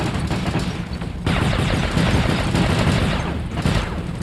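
Robots in the War Robots video game unleash dense, continuous gunfire, a loud unbroken roar of rapid shots and blasts that swells slightly midway and carries on to the end.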